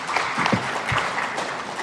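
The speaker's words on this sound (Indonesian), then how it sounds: "Tepuk tangan dong buat Presiden kita." Audience at a ministerial gathering claps for the President, a steady, moderately loud patter of many hands that continues briefly without pause.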